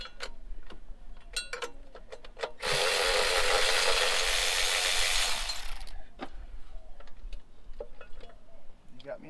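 A handheld power tool whirs loudly for about three seconds, removing a bolt from a Crown Victoria intake plenum, with scattered metallic clicks and handling knocks before and after.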